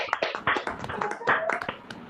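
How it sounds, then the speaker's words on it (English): Scattered clapping from online meeting participants after a training session, uneven and overlapping as separate microphones come through, moderately quiet with faint voices mixed in. "please unmute and let's give a clap for our Mr. Parag."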